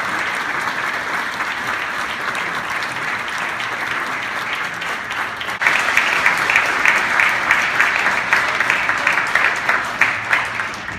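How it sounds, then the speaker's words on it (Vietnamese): California state senators applaud together in their chamber, a broad wash of clapping that swells partway through into louder, more rhythmic, unified claps. "Trong tiếng đồng thanh vỗ tay của các thượng nghị sĩ"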